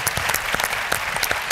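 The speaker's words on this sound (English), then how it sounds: "Please, a round of applause is all right." An audience at a town hall meeting claps steadily and briskly for a moment, dense hand claps filling the room without any voices.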